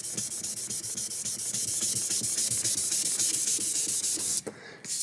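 Steady close rubbing of fine-grit sandpaper over a lacquer finish on a spruce board, worked up toward 3000 grit, a continuous raspy swish with brief pauses and a short break near the end.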